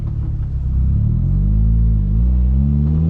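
Turbocharged Mazda Miata NB with a lightweight flywheel and straight-pipe exhaust revving, its deep engine rumble climbing steadily in pitch and holding loud and close, with no talking.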